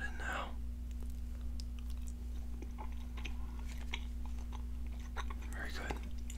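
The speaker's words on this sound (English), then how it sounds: "I also have a piece of gum that I'll be chewing while we play" Soft, wet chewing of a piece of gum close to the mic during a Miitopia gaming session, with faint clicks and mouth sounds over a steady low hum.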